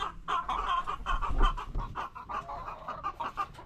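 Several chickens cluck and murmur close by in a steady, overlapping chatter, with a few louder squawks standing out near the middle.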